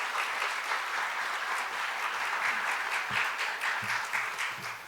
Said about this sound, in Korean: 우리 목사님 나오실 때에 우리 큰 박수로 환영해 주시도록 하겠습니다